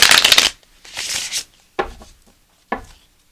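Tarot cards are riffled and shuffled in a few quick, crisp bursts, the first long and loud, followed by shorter snaps, with no talking.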